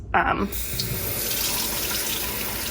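Tap water runs steadily into a blender as the liquid base for a morning smoothie, a continuous close splashing rush that starts after a brief clatter and holds level throughout.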